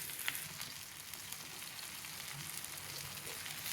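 Fish shallow frying in coconut oil in a pan, giving a steady, even sizzle and crackle throughout with no talking.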